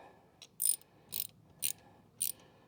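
A ratchet tightens the mount of a Honda Goldwing fog light, giving four short, crisp bursts of clicking separated by brief pauses against a quiet background.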